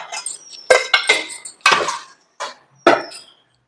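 A metal spoon scrapes and clinks against a cooking pot while stirring a tempering and ghee mixture in a home kitchen, giving about six separate knocking, scraping strokes at close range with short pauses between them.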